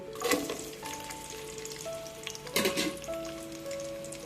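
Onions and green chillies fry in a pan as spices are added for khichdi, giving a steady close-up sizzle with crackling bursts and small clinks of stirring, and no talking over it.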